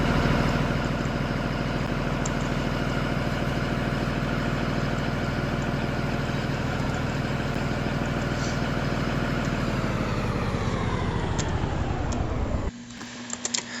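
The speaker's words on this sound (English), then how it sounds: "this thing is diesel powered for sure, because that definitely sounded like a diesel" A diesel school bus engine in Rigs of Rods rumbles and idles loudly and steadily with a dense, rattling drone, then winds down and cuts off near the end, leaving a few faint clicks.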